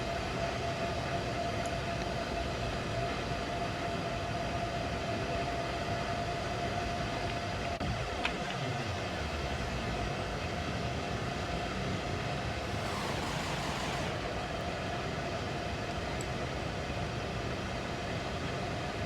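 A Class 395 passenger train passes on a steady, continuous rumble, with a falling whine in the middle of the pass and a brief hiss later on. No one speaks.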